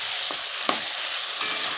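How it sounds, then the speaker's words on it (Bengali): Chopped ginger frying in a pan, a steady bright sizzle with a few sharp spatula scrapes and taps as it is stirred, close and fairly loud with no talk. "ভালো করে একটু নেড়ে চেড়ে নিলাম"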